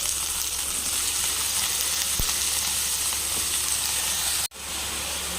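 Brinjal (eggplant) pieces sizzle steadily in a hot pan, a constant loud frying hiss with a brief sharp break near the end.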